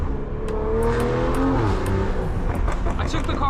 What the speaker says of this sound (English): Listen to that car.